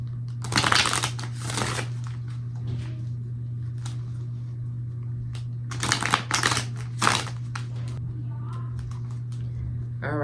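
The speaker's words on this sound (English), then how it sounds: "All right, last shuffle" A deck of tarot cards is shuffled in a few quick riffling bursts near the microphone, over a steady low electrical hum.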